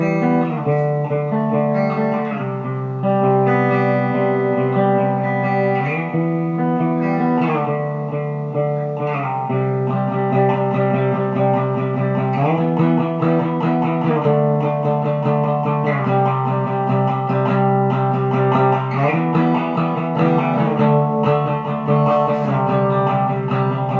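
An Epiphone Lee Malia Les Paul Custom Artisan plays through its bridge pickup with the coil unsplit and a little reverb, giving loud, continuous chords and riffs that ring out alone.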